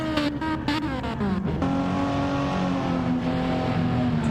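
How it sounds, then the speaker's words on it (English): Multi-class race cars at Interlagos rev loudly on the grid in a sim racing event, with several engines rising and falling in pitch over a continuous close roar and no voices. "Go, we hear some engines revving."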